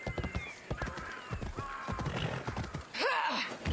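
A horse in the video game Assassin's Creed Odyssey, with a quick run of close hoof clip-clops followed by a clear whinny near the end, over faint game ambience.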